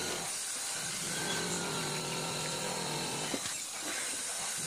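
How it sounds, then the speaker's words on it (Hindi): A power drill with a cutting attachment saws through plywood in a steady, loud, continuous whine with broadband hiss for several seconds. The cutting stops briefly near the end and then starts again. No one speaks. "फिर से हम ड्रिल मोटर से यहाँ पर काट रहे हैं।"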